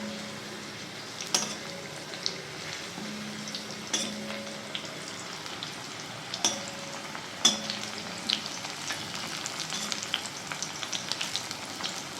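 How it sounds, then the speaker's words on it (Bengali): Pumpkin frying in a pan at a home kitchen meal time: a soft, steady crackling fry with scattered sharp clinks and scrapes of stirring, fairly quiet and close, with no talk. "এখানে এখন কুমড়ো ভাজা করছি, কুমড়ো ভাজা।"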